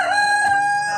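A rooster on a pasture-raised backyard egg farm in Sacramento crows loudly and close by, one sustained crow that fills the whole second with no talk over it.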